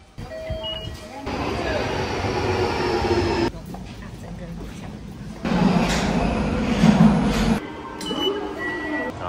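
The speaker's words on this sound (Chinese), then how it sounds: "鹤舞线的地铁" A Tsurumai Line subway train in Nagoya gives a deep, loud rumble in surges, with faint metallic clinks and voices mixed in.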